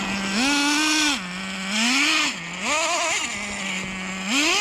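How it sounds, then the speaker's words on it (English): Traxxas Slayer Nitro RC car with metal gears, its small nitro engine whining loudly in repeated rising and falling revs, with a strained gear whine over the high buzzing tone and no talking. "Ooh, those gears don't sound very happy though."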